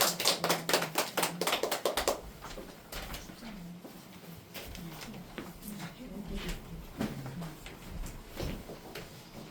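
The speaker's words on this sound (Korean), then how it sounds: "예, 박수." An audience at a Korean lecture claps in a brief, loud burst of sharp hand claps that quickly dies out, and talk and low murmuring carry on afterward.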